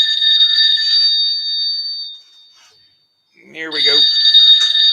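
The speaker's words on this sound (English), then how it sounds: "Oh, that ain't my phone. That's my alarm clock." An alarm clock rings loud and close in a steady metallic bell tone for about two seconds, stops briefly, then rings again while someone speaks over it.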